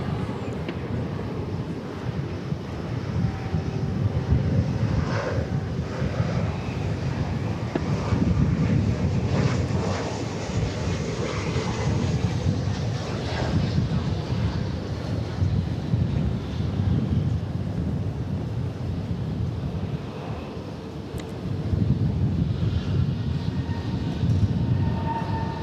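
An Airbus A320 airliner passing at DFW Airport, a steady, broad roar of jet engine noise with gusts of wind buffeting the microphone, sustained loudly throughout with slight swells and dips and no speech.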